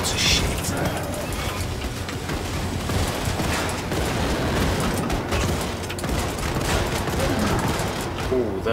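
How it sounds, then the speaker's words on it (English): Continuous rattling gunfire fills a firefight in Wolfenstein II: The New Colossus, dense bursts layered over game noise with voices talking throughout. "You're just getting shot to shit."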